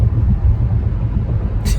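A car being driven, heard from inside the cabin: a steady low road and engine rumble fills the brief moment, with a short higher hiss near the end.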